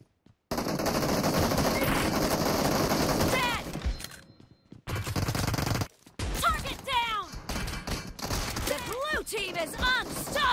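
Rapid automatic gunfire in the video game PUBG Mobile rattles loud and dense in long bursts, broken by short silences, with whistling ricochet-like sweeps near the end.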